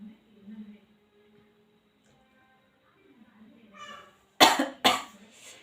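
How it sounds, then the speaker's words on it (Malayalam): A person coughs twice in quick succession after sniffing snuff, two sharp close bursts near the end, following a stretch of quiet murmuring. "മൂക്കുപ്പൊടി ഇട്ടാലേ അത്യാവശ്യം നന്നായിട്ട് തന്നെ ചുമ വരും"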